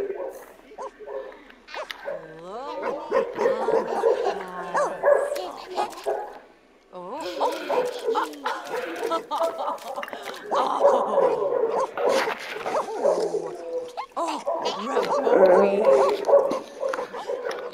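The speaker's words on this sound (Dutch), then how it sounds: "Die honden blaffen echt veel, dames en heren." Dogs in The Sims 4 bark, yip and whimper in repeated bursts, a busy run of game barking that pauses briefly midway and resumes, with a person talking over it.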